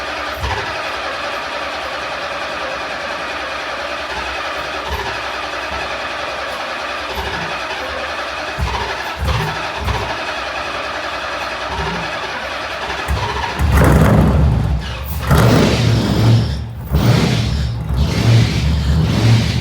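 A 750-horsepower LS-swapped Nissan Z idles roughly at close range after sitting for weeks, then the V8 rumbles into sharp, loud revs in quick bursts.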